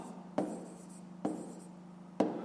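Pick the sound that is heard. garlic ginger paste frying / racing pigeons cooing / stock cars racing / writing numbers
writing numbers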